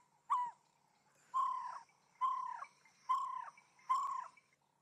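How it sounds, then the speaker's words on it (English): A barred owl gives five clear, evenly spaced hooting calls about a second apart, each a rising then falling note, heard alone against a quiet sunset background. "It is a barred owl."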